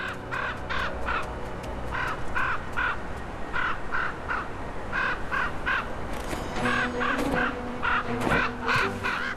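Ravens or crows gathered at an animal carcass on Arctic ice give repeated hoarse caws in quick bursts of three or four, close and loud, continuing steadily with no voices present.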